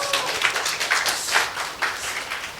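An audience claps together during a quiz segment at a Korean message gathering, with a dense, lively patter of many hands in quick uneven bursts for a few seconds. No voices are heard.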